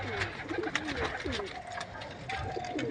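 Pigeons cooing in a loft where birds are sold, soft repeated throaty coos from several birds nearby, with people talking faintly in the background.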